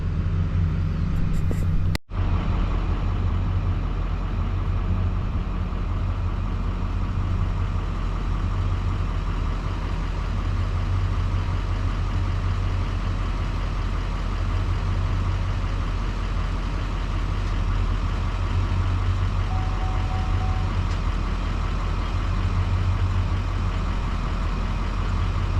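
A pickup truck engine idles steadily close by, a low continuous rumble that holds level throughout with one brief dropout near the start.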